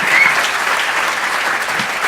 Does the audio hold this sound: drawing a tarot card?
no